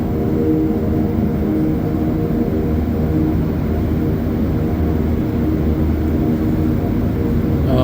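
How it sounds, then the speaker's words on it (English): Montréal Métro train vents during a ride between Côte-Sainte-Catherine and Angrignon, a loud continuous whirring roar with layered tonal hum, steady throughout and close, with no talk. "Hear those vents. I love that sound."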